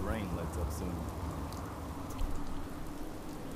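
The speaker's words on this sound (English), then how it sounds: "Hope this rain lets up soon." Steady rain falls in the video game Fallout 4, a dense, even patter spread across the whole stretch, with a person talking over it.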